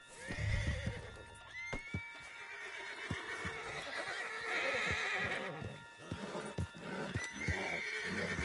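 A horse whinnies loudly in Red Dead Redemption 2, then hooves clip-clop and snort nearby, with another neigh rising toward the end.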